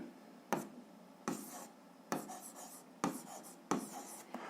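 Pen strokes on paper during a physics exercise, five distinct scratchy bursts of writing separated by short pauses, close and fairly quiet, no voices.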